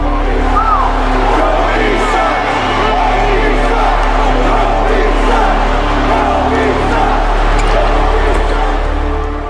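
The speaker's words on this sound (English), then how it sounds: "I hear everything that the crowd is saying" A basketball arena crowd roars in a dense, continuous wash of shouting, whoops and cheering that stays loud and steady throughout.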